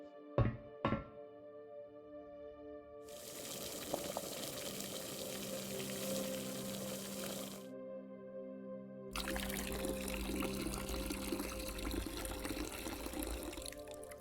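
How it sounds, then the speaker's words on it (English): Water is poured into a humidifier in a video game, two short knocks followed by a long steady stream, a brief pause, then a second louder pour, with no talk. "the pouring water in the humidifier"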